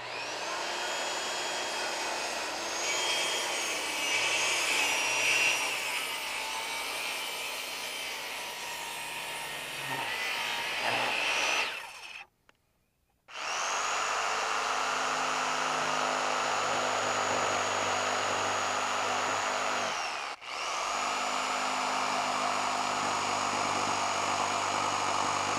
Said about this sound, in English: If you want to do a plunge cut with a circular saw, just hold the safety up, place it so you're on your mark.